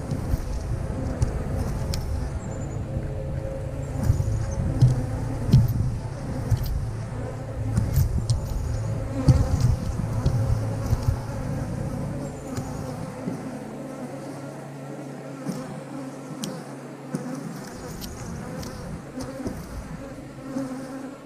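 Bees buzz steadily inside an open 8-frame beehive, a dense, continuous hum close by with occasional louder passes of individual insects.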